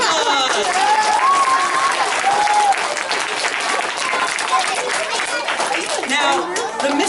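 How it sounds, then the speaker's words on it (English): Loud audience applause fills a history lesson about Hernando de Soto, dense clapping with cheers and chatter mixed in, steady throughout and close by. "Give a round of applause!"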